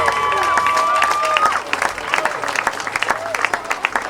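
Wedding guests applauding and cheering in a reception hall, dense clapping mixed with crowd noise and a loud sustained whistle early on, then breaking into more distinct individual claps as it thins out.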